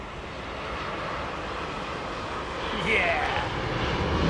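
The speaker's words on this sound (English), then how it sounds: "Aaron Thomas, here come all the Asian heavies within 40 minutes." Heavy long-haul jet airliners at Heathrow Airport give a continuous loud engine roar, swelling near the end as one passes close by.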